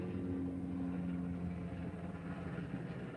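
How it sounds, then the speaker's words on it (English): A helicopter flies overhead close above a roof, a steady low droning engine hum that fills the space continuously and fairly loudly, with no talk over it. "There's some helicopter out there."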